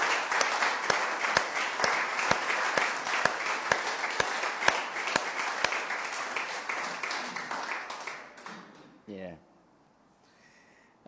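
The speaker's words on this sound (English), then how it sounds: "let's give him a clap" A church congregation claps together for a sustained stretch, loud and dense with sharp individual hand strikes, before tapering off and giving way to quiet room tone and a brief voice near the end.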